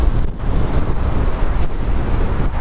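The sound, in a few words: wind blowing on a country road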